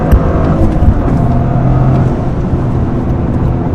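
A Toyota GR Corolla accelerates at around 60, its engine note loud and steady throughout with a low droning hum and road roar filling the cabin.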